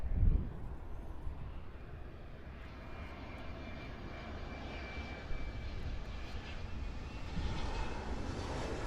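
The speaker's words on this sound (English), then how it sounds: "So sit back and enjoy this classic 737 landing" A Boeing 737-300 lands on runway 9 at Miami International Airport, its engine roar steady and continuous throughout, with no talk over it.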